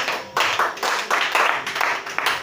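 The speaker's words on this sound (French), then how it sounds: "On acclame le Seigneur Jésus-Christ." A congregation at a church service claps in a quick, steady rhythm, a dense burst of hand claps that stays close and lively throughout.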